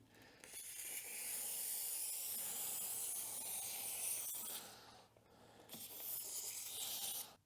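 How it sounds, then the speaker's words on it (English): An aerosol can of silicone spray hisses in a long spray onto a motorcycle tire, pauses briefly, then sprays again in a second shorter burst, close by. "I do have some silicone spray though, so we can spray that down here"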